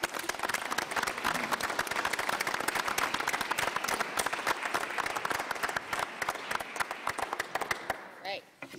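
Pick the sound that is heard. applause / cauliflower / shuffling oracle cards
applause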